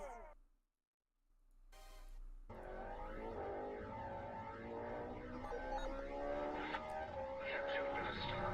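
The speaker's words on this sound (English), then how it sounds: "Drivers, start your engines!" Stock car engines firing up in NASCAR Racing 2003: a brief quiet gap, then a field of engines roars to life, layered revving pitches building into a loud sustained drone.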